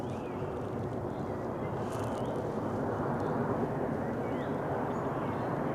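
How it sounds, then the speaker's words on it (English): A fixed-wing airplane passes overhead above a cemetery in Jarrow, a steady, distant broadband engine rumble that holds for the whole stretch with no voices. "Got a plane flying over at the minute."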